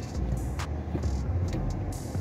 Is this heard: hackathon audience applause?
no